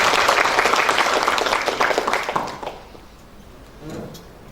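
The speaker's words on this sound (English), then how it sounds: "So give a round of applause to you all." A business summit hall audience applauds loudly for over two seconds. The clapping then fades to a quiet room with a faint voice near the end.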